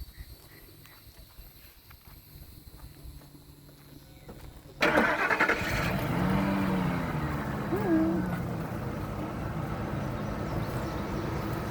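A car engine sits quietly, then cranks and catches abruptly and settles into a rough, uneven idle with one cylinder misfiring, running steadily at moderate volume close by.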